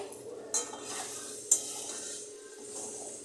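Prawns stir-fry with green chillies, Kashmiri red chilli and sugar in a pan, a quiet sizzle under two sharp clinks of a spatula against the pan.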